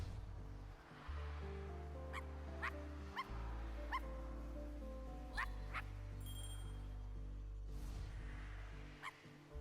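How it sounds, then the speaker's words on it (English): A dog in the video game I Am Dead barks in a series of sharp, clear yips over a steady droning musical backdrop, about six barks spaced irregularly, with no talking. "Oh, I have to keep barking at him."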